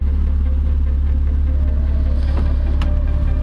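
Porsche Boxster S engine idles with a steady low rumble close by, a constant even drone with no revving, following work on its plenum, throttle body and intake.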